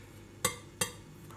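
A spoon taps and scrapes in a bowl while mixing a milk powder mixture with cornstarch and baking soda, two distinct clinks over near silence.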